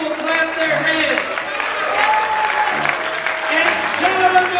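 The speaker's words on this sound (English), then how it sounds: "all the people clap their hands" A church congregation claps hands amid crowd noise during worship singing, dense and lively throughout, with voices and music mixed in.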